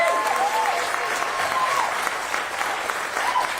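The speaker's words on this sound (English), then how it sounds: "Can I get an applause on that?" Audience applause at an event announcing a professional women's hockey team in Seattle: a steady wash of crowd clapping throughout, with faint whoops and a voice rising briefly above the noise.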